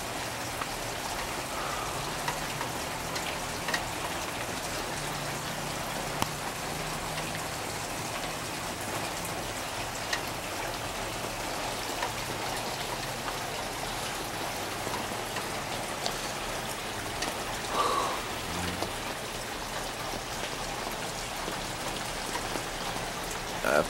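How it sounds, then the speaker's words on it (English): Mixed rain and snow falls as a steady, soft patter over evergreens, an even wash of fine droplets with occasional faint ticks and slight rustling, and no voices. "Kind of mixture of rain and snow."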